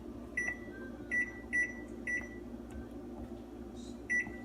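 Oven timer beeping in a home kitchen while pumpkin bread bakes, a short series of five or so clear electronic beeps in an irregular rhythm, close and fairly loud over a steady low appliance hum.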